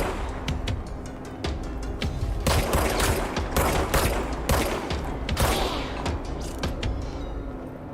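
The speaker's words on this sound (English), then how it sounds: "it's a powerful gun, that's for sure" A powerful gun fires repeatedly in the video game Control, sharp bursts of shots cracking in quick irregular volleys over a low in-game rumble, loud and close with no speech.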